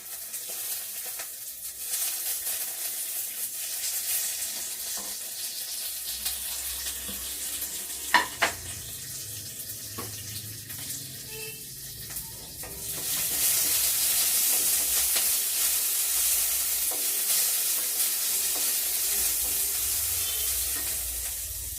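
Green chillies and curry leaves sizzle and spit in hot oil in a pan, with occasional stirring clinks and a steady frying hiss that swells louder partway through.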